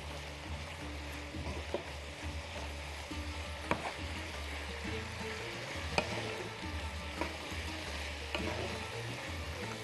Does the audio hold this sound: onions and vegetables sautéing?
yes